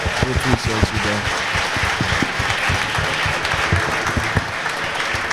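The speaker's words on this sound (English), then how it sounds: "Can we get a round of applause for Jalen, man?" Crowd applause during a basketball podcast-style session, steady dense clapping throughout with voices talking over it.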